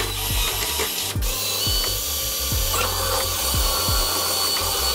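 A power drill with a 1/4 inch bit bores into a C6 Corvette widebody front fender, a loud, steady whirring grind with repeated pitch-dropping pulses as the bit bites and slows, close and without talking.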